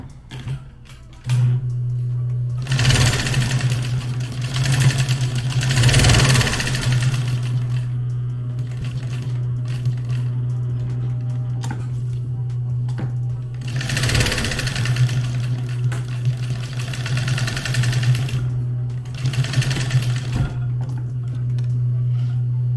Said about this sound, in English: along our 2 cut edges, we're just gonna put a stitch up and then back down